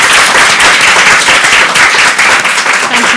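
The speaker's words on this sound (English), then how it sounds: "Please join me in giving our panellists a round of applause." Audience applause for conference panellists at an online safety policy event, a steady dense clapping that fills the room at full volume throughout.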